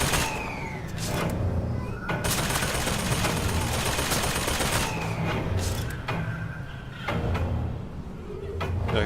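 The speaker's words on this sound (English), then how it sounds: "Okay, so the turrets went off" Automated turrets in BioShock Infinite firing: loud, dense bursts of rapid gunfire with sharp mechanical clanks and sliding metallic sounds between volleys, close and harsh.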